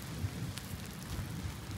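Heavy rain pours down in a park in Toruń, Poland, a steady broadband hiss, loud and close, with low rumbling underneath that may be distant thunder and no voices.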